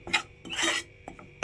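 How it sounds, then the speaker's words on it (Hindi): Gram flour (besan) being roasted in a kadhai and stirred with a spatula, four short raspy scraping strokes against the pan, close and fairly quiet, no voices. "इस तरह से देखिए हम बेसन को भून लेते हैं।"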